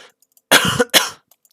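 Two sharp, close coughs from a person at a computer, one slightly longer than the other, loud against an otherwise quiet room.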